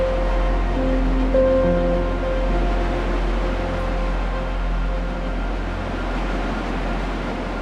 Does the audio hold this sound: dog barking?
no